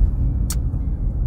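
A car drives toward a work parking lot with a steady low engine and road rumble inside the cabin, broken by one brief sharp hiss or click partway through.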